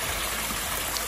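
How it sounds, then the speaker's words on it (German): A small waterfall in a mountain stream near Berchtesgaden gives a steady, close rush of splashing water, constant and even throughout the short moment with no voices. "Hier ist ein kleiner Wasserfall."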